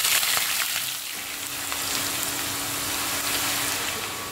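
Washed potato pieces frying in hot oil in a home kitchen, a steady dense crackling sizzle that fills the whole stretch, close and even, with a few stirring sounds and no talking.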